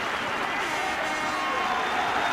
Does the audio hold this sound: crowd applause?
yes